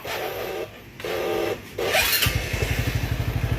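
A motorcycle with a weak electric starter cranks in two labored bursts separated by short pauses, then the engine catches and settles into a close, rapid, rhythmic idle putter.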